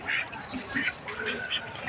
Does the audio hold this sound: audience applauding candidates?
no